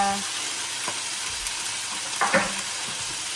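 Chicken browns in a frying pan with a steady, close sizzle and hiss, punctuated by a few light scraping or stirring sounds, no speech.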